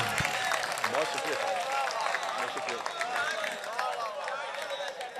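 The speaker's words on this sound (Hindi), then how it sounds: "तालियां तालियां तालियां पंडाल में आवाज आए भाई" Steady audience clapping and crowd noise at a mushaira, an Urdu poetry gathering under a pandal, sustained and fairly loud for the whole stretch with a dense, even texture.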